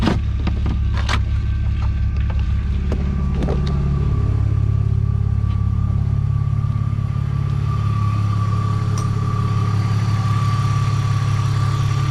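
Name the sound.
BMW E46 engine idling after alternator replacement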